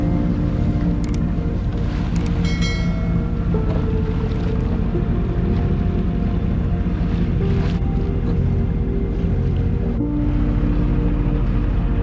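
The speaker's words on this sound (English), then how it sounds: "We have some small waves, so we are rolling a bit." A sailboat rolls in small ocean waves under light wind with only the head sail up, giving a continuous wash of water against the hull, soft creaks and a few brief clinks of rigging and gear nearby.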